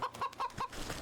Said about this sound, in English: Is it bad that yeah, it's a pheasant.